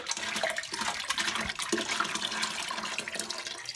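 Water pouring steadily into a demijohn for winemaking, a continuous close splashing gush with gurgling bubbles, loud and unbroken throughout.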